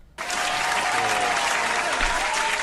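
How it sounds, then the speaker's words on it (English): Applause breaks out suddenly and holds steady, a dense wash of many hands clapping from a sizable crowd. "give him a round of applause, please"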